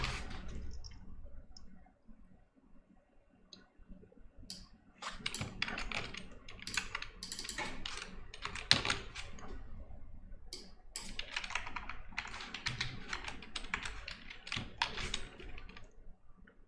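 Someone types steadily on a computer keyboard during web development, with quiet, close clicks in irregular runs and short pauses and no talking.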